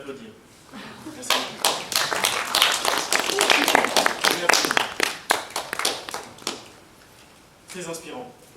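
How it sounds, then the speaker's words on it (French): Audience applause at an improv show, a burst of many hands clapping that swells quickly, holds loud and dense for several seconds, then fades, followed by a brief voice near the end. "Je pense qu'on peut l'applaudir."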